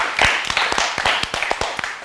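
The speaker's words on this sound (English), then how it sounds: "Clap for the team." A studio audience claps for a team on a Ramadan quiz show, sharp individual claps standing out over a steady bed of applause, close and fairly loud.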